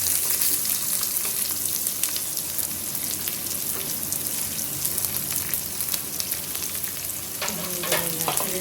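Chopped onions sizzle steadily in hot oil in a pan of roasted dal while vegetable upma is cooked, with a dense, continuous crackle and scattered stirring clicks throughout, no voices.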